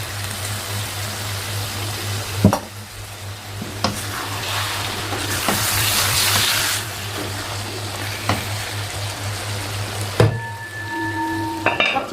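Food sizzles and fries in a pan after a little water is added, a steady hissing spatter with occasional sharp clicks and stirring knocks over a low hum.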